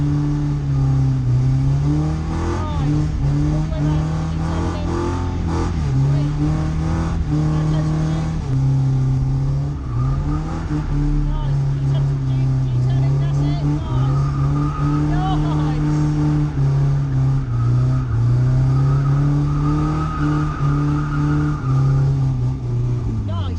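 A car revving hard and drifting at a drift day, with a loud, droning engine tone that rises and falls in long sweeps and rough tyre noise. Voices talk over it throughout.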